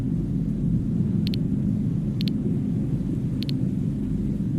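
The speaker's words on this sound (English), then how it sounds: "we're in the middle of a thunderstorm." Thunder from a storm in the Signal Simulator video game makes a deep, continuous, loud rumble. Three short electronic beeps sound at intervals over it, and no one speaks.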